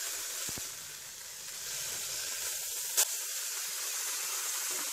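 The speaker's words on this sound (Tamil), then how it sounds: "அதனால் தீயை குறைச்சி வச்சுட்டு இஞ்சி பூண்டு பேஸ்ட்டு மஞ்சள் தூளும் சேர்த்து லேசாக வதக்கிட்டு மட்டனை சேர்த்துக்கலாம்." Ginger garlic paste and turmeric fry gently in oil over low heat for Chettinad mutton chukka, a soft, continuous sizzling hiss with a brief clink partway through.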